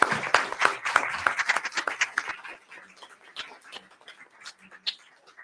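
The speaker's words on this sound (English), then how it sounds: "one more round of applause, please?" A crowd gives a burst of clapping for the winners of a schools poetry contest. The applause is loud and dense at first, then thins into scattered claps that fade out.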